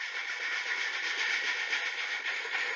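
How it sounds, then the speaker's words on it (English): Subway ambience from an ambient sound app, a steady, dense rushing roar like a moving train car, constant and fairly loud throughout with no talking. "A subway."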